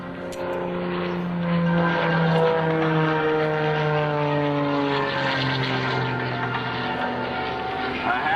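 Propeller aerobatic airplane at an air show, descending in an upright flat spin with the throttle pulled back; a steady, fairly loud drone with gliding tonal engine harmonics that slowly drop in pitch, continuous throughout without talk.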